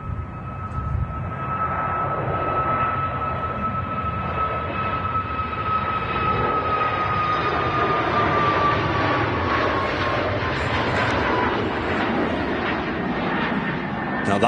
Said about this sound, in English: Here's the Ice Max. On the takeoff roll here from Manchester.